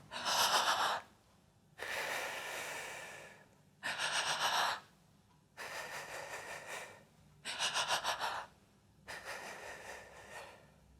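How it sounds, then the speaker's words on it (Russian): A person breathes in a halting, sobbing rhythm as if crying, close up and alone: six separate bursts of jerky breath, each about a second long, with short quiet gaps between them. "Прерывистое дыхание, как будто вы заплакали."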